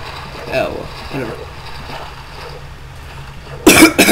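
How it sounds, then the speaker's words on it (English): A person coughs in a short, sharp burst of two or three harsh coughs near the end, following quieter faint sounds and soft ambient noise. "sorry for coughing"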